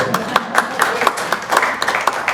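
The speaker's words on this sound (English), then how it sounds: "Okay, so yeah, clap right there." An audience claps at a Santa Barbara Republican Club luncheon meeting, giving brief, moderately loud applause with distinct individual claps.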